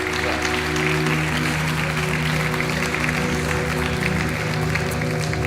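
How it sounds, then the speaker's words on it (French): A TV game show studio audience claps steadily throughout, broad continuous applause with music playing underneath. "On vous laisse repartir sous les applaudissements du public."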